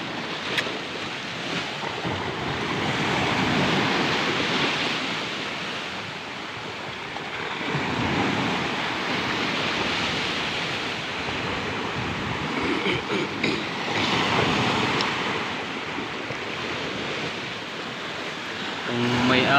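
Strong sea waves churn during Typhoon Kristine near a floating cottage, a loud, continuous broadband roar of surging water that swells and eases in long, rough pulses.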